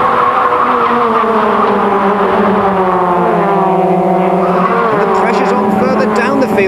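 Race cars screaming at full throttle down the Dean Straight at a circuit during the 1991 season, loud rising engine notes sweeping past one after another, with commentary running over the top.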